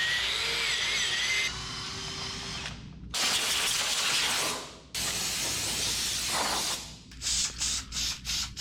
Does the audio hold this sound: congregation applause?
no